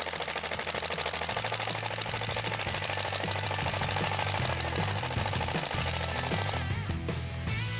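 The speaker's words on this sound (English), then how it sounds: "With our screws, just initially start it off, and then with your power driver, slowly work it in." A power driver drives screws into a wooden pedal car base, a close, steady buzzing whir of motor and grinding screw that runs for several seconds before stopping.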